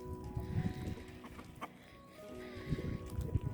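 Backyard chickens clucking as they eat scraps of chicken, irregular close bursts of low, busy clucking with a quieter gap in the middle, background hum steady throughout.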